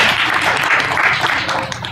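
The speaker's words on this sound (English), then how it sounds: "You don't have to clap after everyone." An audience at a poetry open mic in a bar claps briefly, a dense patter of hands filling the room, fairly loud and then tapering off.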